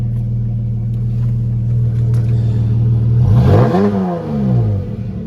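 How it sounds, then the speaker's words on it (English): A Dodge Charger with a V6 engine idles with a steady low hum, then the revs rise and fall in a brief throttle blip before settling back to a rumbling idle. "that's a little V6-ish. But just that idle sounds really good"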